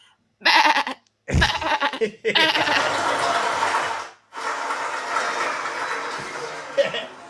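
A person's voice imitates sheep bleating, giving several drawn-out, wavering bleats in short bursts separated by brief pauses, loud and close.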